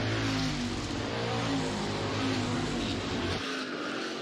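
Hobby stock race cars roar through the turns of a dirt speedway, a dense continuous engine drone with overlapping revving tones, loud and sustained before easing slightly at the end.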